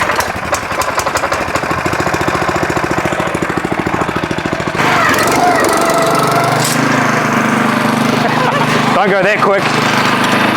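A self-propelled lawn core aerator runs loud and close, its engine chugging in a rapid rhythmic knock that shifts into a rougher, heavier roar partway through, with a brief spoken remark over it.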